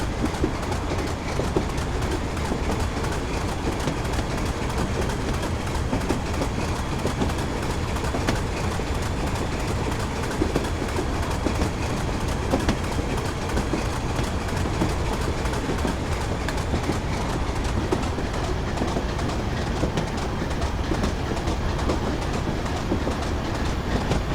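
Train driving steadily along rails in Train Simulator 2015 on the Darlington to Durham via Bishop Auckland route, a loud continuous rumble with a faint regular clickety-clack throughout and no talk.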